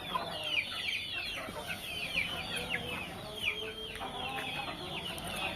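A rooster clucks repeatedly up close in short, irregular bursts, with faint farmyard background and no talking.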